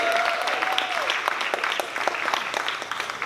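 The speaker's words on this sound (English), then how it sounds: "Let's give another round of applause to the Grit Line Dancers." An audience at a Black history show claps for line dancers, a full, lively round of applause with scattered sharper claps, and a brief whistle-like tone rising early, steady and close throughout.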